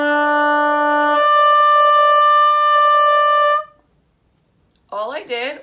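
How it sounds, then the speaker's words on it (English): An oboe starts on a low D, then jumps cleanly up the octave as the top finger slides to open the half hole; the higher note is held steady for a few seconds before a short pause and brief talking. "All I did was I slid that top finger down to expose that half hole to get the note to sound higher."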